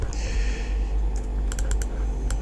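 Keyboard shortcuts typed on a computer while modelling in ArchiCAD: a few quick, crisp key clicks in small clusters over a low steady background hum, with no talk.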